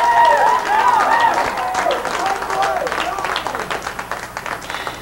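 A crowd at the Court Sports Club applauds during a racquetball match, steady clapping that slowly thins out, with a commentator talking over it.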